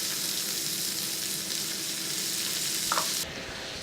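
Red and green peppers frying with browning rice in a pan for Caribbean chicken and rice, producing a loud, continuous close sizzle with a brief clink near the end as the hiss drops off.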